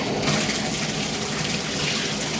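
Water runs steadily in a bath while a dog is being washed, a continuous gushing hiss that holds even and close with no talk over it.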